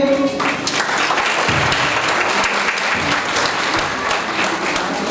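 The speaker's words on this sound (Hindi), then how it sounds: "इनको हम तालियों की गूंज में वेलकम कहेंगे" Dense, steady audience applause at a school Independence Day celebration in Bahawalpur, welcoming the chief guest; loud, continuous clapping filling the whole stretch, with a brief speaking voice at the very start.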